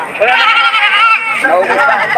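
Goats bleat in quavering, drawn-out cries at a goat market, several calls blending together under a background of voices.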